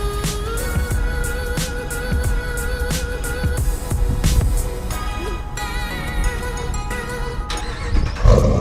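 A Ram 1500 pickup with a 5.7L Hemi V8 and Gibson Performance aftermarket exhaust idles with a deep, steady rumble, punctuated by a series of sharp clicks and knocks close by.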